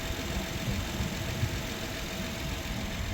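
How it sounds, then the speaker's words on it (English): An insurance-auction car sits idling, its engine giving a steady, low rumbling drone with faint knocking texture, heard at moderate distance without talk. "Engine sounds good."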